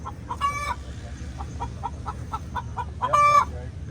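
Chickens cluck in short repeated bursts, with a couple of louder, drawn-out squawking calls standing out against a low outdoor background rumble.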